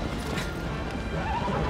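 Horse neighing in the video game Shadow of the Colossus, a brief whinny over dense game noise with hoof clatter, loud and close.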